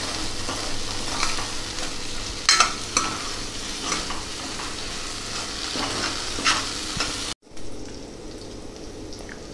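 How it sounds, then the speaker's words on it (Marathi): Masala spice paste frying in oil for Khandeshi dal gandori: a steady crackling sizzle with occasional stirring scrapes. It cuts off abruptly near the end, then resumes faintly. "जोपर्यंत आपल्या मसाल्याला तेल सुटत नाही तोपर्यंत मसाला छान तळला गेला पाहिजे"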